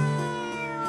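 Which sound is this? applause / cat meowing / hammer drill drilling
cat meowing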